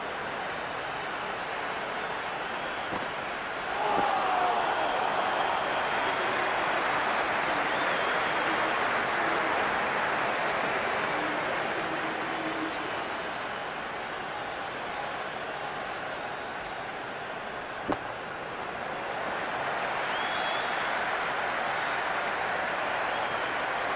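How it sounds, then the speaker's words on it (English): A cricket stadium crowd in the video game Cricket 2026 roars and applauds in a dense, steady wash of noise, a sustained distant hum of thousands with a slight swell early on and a brief sharp knock near the end. "It's almost palpable, the excitement emanating from this crowd at the moment."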